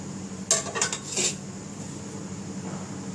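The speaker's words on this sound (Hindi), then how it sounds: "अब सबसे पहले हम सूजी डालेंगे और इसको भून लेंगे थोड़ा सा" Semolina being added to a pan and dry-roasted for sooji halwa, heard as a few close metallic clinks and scrapes of a utensil against the pan, then quiet low background hum.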